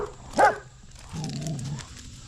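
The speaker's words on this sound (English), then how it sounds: "That's my dog right there." A dog in a backyard gives one sharp, fairly close bark, followed by softer muffled rustling and knocking as someone works on assembling a plastic storage-box deer hunting blind.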